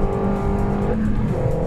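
A Renault Megane RS Trophy driven fast on a race track, its engine roaring loudly and close with shifting harmonic tones as revs change mid-run, no talk.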